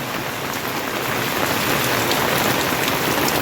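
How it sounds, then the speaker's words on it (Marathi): Heavy rain pours down steadily in calm, windless conditions, a dense, loud hiss of drops drumming on surfaces with no voices, constant throughout. "एवढा जोरात पाऊस चालू आहे"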